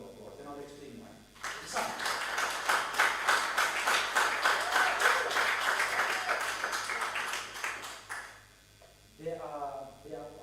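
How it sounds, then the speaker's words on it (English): Conference audience at an innovation festival gives a panel a round of rhythmic applause lasting several seconds, framed by someone speaking before and after. "give the members of the panel another enthusiastic round of applause"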